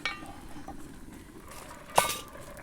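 A pot of stew being stirred on the stove, with soft clinks and scrapes under a low kitchen background and a sharp utensil knock against the pot near the end.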